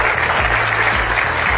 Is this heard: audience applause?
yes